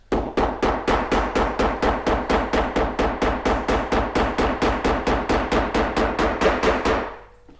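Steady run of about thirty evenly spaced mallet or hammer taps on hand saddle-stitched leather, a fast regular rhythm of sharp close knocks lasting about seven seconds before stopping, with no talking.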